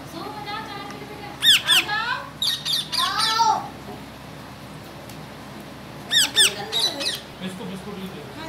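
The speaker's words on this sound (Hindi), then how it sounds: "जब तक इस तोते को मोबाइल ना दे दिया जाए तब तक यह तोता चिल्लाता रहता है" A pet parrot in a home lets out repeated shrill squawks and squeaky calls in two bursts, close and fairly loud.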